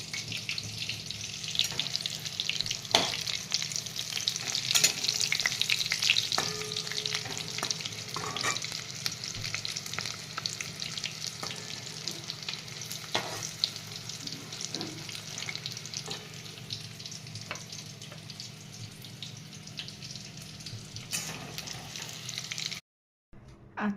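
Steady, close sizzling and bubbling of chicken keema pakora frying in oil until crispy, with occasional sharp pops and spatters, running continuously before a short cut of silence near the end.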